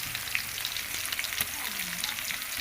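Green chilli paste fries in a pan with a soft, continuous sizzle and crackle at low to moderate level, and no voices are heard.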